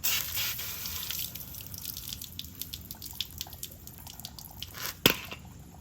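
Tap water runs into a sink while fresh garden celery is rinsed under it, a steady close splashing stream with a few sharper drips and a brief louder splash near the end.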